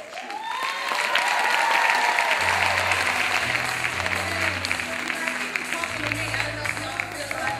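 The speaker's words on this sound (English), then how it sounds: "Give them a big round of applause." An audience claps and cheers after a monologue performance in a Black Girls Monologue production, with loud sustained applause filling the room. A low musical tone plays underneath.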